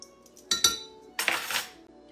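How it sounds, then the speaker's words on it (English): A spoon clinks against a bowl while stirring a yeast mixture for porridge bread: two quick taps, then a longer scraping swirl, close and fairly quiet. "I'm just gonna stir that up just a tiny bit"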